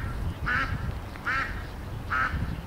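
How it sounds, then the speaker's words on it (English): Ducks on a London canal give three separate short bursts of quacking, each about a quarter second, spaced roughly evenly over a steady low background murmur of outdoor ambience. "And there's a duck race going on, it seems."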